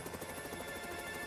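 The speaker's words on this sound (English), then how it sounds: "that sounds like Tom's helicopter" A distant helicopter's rotor thumps pulse steadily in a faint, continuous drone, with no voices present, in a children's animated cartoon.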